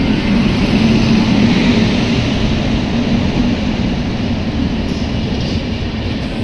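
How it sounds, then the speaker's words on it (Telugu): The Dharmavaram–Machilipatnam Express rolling into Jammalamadugu railway station, a loud, continuous low rumble of wheels and carriages with no voices. "train number 17216 Dharmavaram Machilipatnam express వచ్చేసి జమ్మలమడుగు రైల్వే స్టేషన్కి అయితే ఎంటర్ అవుతుంది"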